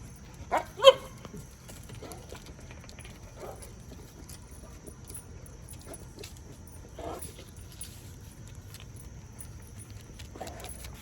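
Boerboel father dog with his puppies, giving a few short, faint yips and whimpers scattered across a quiet indoor background, the loudest pair early on.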